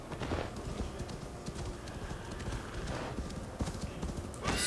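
Horse hooves clip-clop in a brisk, continuous rhythm in Assassin's Creed Valhalla, with a whinny mixed in and faint game ambience behind.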